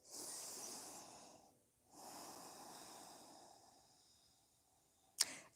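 Slow, steady nasal breathing during a yoga session, with two long airy breaths rising and falling close to the microphone, a brief pause between them, then a sharp click near the end.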